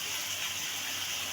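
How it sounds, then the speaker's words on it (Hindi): Water poured from a glass into a pot of rice for Kabuli pulao, a steady soft gushing stream heard close up without voices. "2 गिलास मैं डालूँगी इसके अंदर पानी।"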